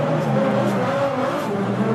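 Adam LZ's RTR Ford Mustang Spec 5 FD drifts at a Formula Drift event, its engine roaring at high revs under a sustained tire squeal, loud and continuous across the clip.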